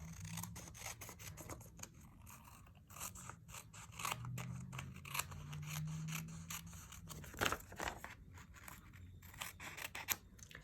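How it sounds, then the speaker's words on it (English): Scissors snip through extra pieces of card while making a handmade greeting card, a run of close, crisp cuts and crunches with brief scraping and rubbing between them. "we're just going to cut off those extra pieces"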